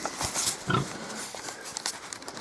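Month-old Hungarian Mangalica piglets on a small pig farm on a frosty day, giving soft, scattered grunts and snuffles close by, with a louder grunt near the start amid faint farmyard background.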